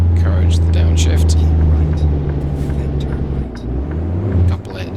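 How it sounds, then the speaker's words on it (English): A 2010 Detroit DD15 530hp truck engine in American Truck Simulator, with a loud steady diesel drone that drops in pitch as it downshifts, and a voice talking over it. "Let's manually encourage the downshift."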